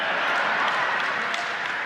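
An audience breaks into steady, dense applause from many hands, a continuous wash of clapping that holds at even loudness throughout, with no distinct voices over it.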